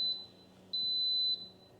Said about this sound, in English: That alarm is telling me that we are on